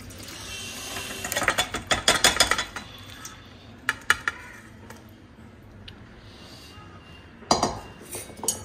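Dishes, pots and cutlery clink and clatter in bursts during kitchen cleanup after cooking, close and sharp, with quieter running rinse noise between the clusters of knocks and no voices.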